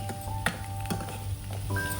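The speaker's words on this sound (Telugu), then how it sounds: "కొంచెం ఒక గుప్పెడు కరివేపాకు, ఒక సన్నగా తరుక్కున్న చిన్న ఉల్లిపాయను వేసి కొంచెం ఫ్రై చేసేద్దాం." Curry leaves and finely chopped onion frying in hot oil for an Andhra-style raw mango rasam, giving a steady close sizzle with a few stirring knocks against the pan and no voices.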